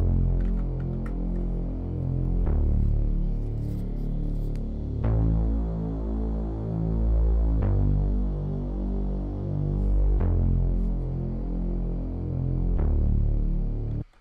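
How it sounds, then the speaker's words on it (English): Deep analog bass one-shot notes sound alone, each a thick low tone that holds and then shifts to a new pitch every couple of seconds, ending abruptly. "And then next I played out this bass."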